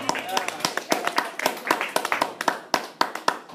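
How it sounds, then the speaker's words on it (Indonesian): A church congregation claps for their pastor, sharp rhythmic claps rising in time, with a voice talking underneath. "Kita tepuk tangan dulu buat gembala kita."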